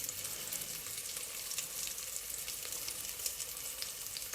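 Homemade chicken nuggets frying in hot oil give off a steady, close bright sizzle with small crackles and pops, unbroken throughout and without speech.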